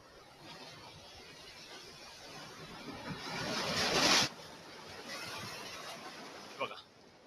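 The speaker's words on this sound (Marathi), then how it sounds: "एक जम्बो लाट येते जम्बो लाट आता पाठी येतोय" Large ocean waves surging at a Konkan shore during a full-moon high tide, a rising wash of surf that swells to a loud roar before breaking off, with wind buffeting the microphone throughout.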